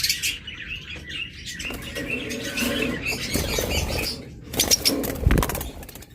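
A creamino pair of pet birds chirps and squawks steadily at close range, with bursts of wing flapping and rustling breaking through around the middle and near the end.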